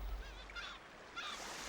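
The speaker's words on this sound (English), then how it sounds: "thousands of birds gather at the river mouths" Flocks of birds gathered at an Alaskan river mouth give off scattered honking, goose-like calls, a few overlapping cries rising over soft background wash, fairly faint and distant.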